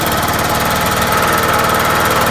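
A Kymco Super 8 scooter engine runs steadily with its bodywork loosely tacked on, a continuous close, loud buzzing drone with a faint rattling vibration and no talk over it.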